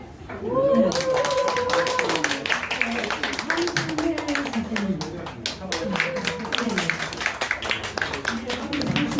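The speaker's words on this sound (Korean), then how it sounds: "박수로 환영하셔야 돼요" Welcoming applause from an audience at a Korean poetry and music association's New Year gathering, with dense clapping running throughout under people talking nearby.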